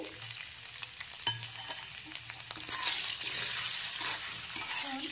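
Raisins and paneer stir-fried together in a pan for veg paneer pulao: a close, continuous sizzle that swells louder partway through, with occasional utensil scrapes and taps and no speech.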